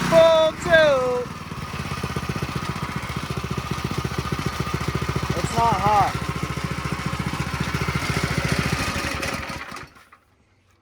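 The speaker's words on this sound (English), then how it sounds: "So that's how to start a Predator engine for the first" A Predator 212 small gas engine runs at full throttle, a steady loud mechanical drone through the whole stretch before cutting off near the end, with people talking over it.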